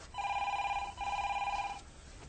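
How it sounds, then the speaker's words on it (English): A telephone rings in two long electronic trills, close and fairly loud, separated by a short gap, with no talking. "I was going to answer the phone."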